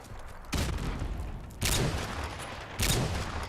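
Three loud, booming sniper rifle shots from the STAC Aggressor in a video game, spaced about a second apart, each with a lingering tail of noise.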